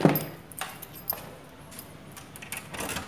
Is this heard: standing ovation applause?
no